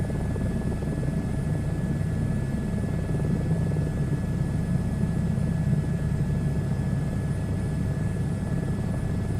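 Helicopter at full power in a VR flight simulator, climbing to flight level 230 on a round-the-world flight, with a steady, dense rotor and turbine drone that holds constant and loud throughout, no voices.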